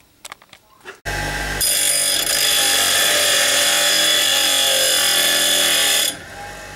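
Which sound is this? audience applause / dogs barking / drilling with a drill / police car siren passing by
drilling with a drill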